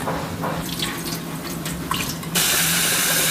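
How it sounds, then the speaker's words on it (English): Tap water runs and splashes into a sink as rice is washed with light stirring, then the flow turns louder and steadier near the end. "We have to wash the rice,"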